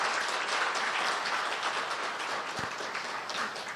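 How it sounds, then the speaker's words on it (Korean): Audience applause thanking a monk lecturer at a Buddhist lecture, a dense, steady wash of many hands clapping throughout, moderately loud with no talk over it. "감사의 큰 박수 부탁드리겠습니다."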